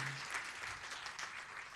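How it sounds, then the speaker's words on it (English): Guests at a wedding reception applaud the newly introduced couple, a soft, fairly distant patter of clapping that runs steadily from start to finish. "Give them a big round of applause, everybody."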